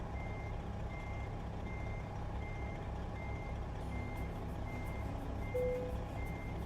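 Steady electronic reversing beeps from a Kenworth T660 semi truck backing a reefer trailer in American Truck Simulator, evenly spaced pulses over a low engine rumble, no voices.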